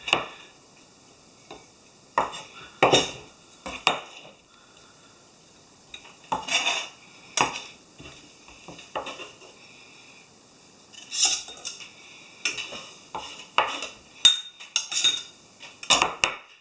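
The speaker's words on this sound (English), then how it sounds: "we got the almond and the coconut sugar. Just gonna mix that up. I'm gonna add the wet ingredients in there." Utensil clinking and scraping in a bowl while almond and coconut sugar are mixed with wet ingredients, irregular bursts of clatter and stirring, close by, with no voices.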